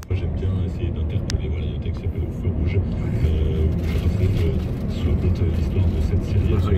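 Busy road traffic in France: a continuous low rumble of car and bus engines that swells slightly midway, with a sharp click early on and a faint voice under the noise.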